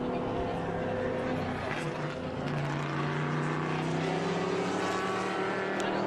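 A vintage race car's 4-cylinder upright inline engine drones steadily at Watkins Glen, a buzzing, throaty note with harmonic hum that holds level throughout, with a voice talking faintly underneath.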